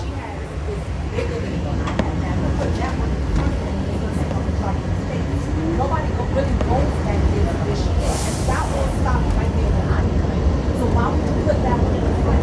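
A New York City 3 subway train brakes into a hard curve, a loud continuous rumble and rattle of the cars with a brief high squeal of brakes near the end, and muffled voices nearby.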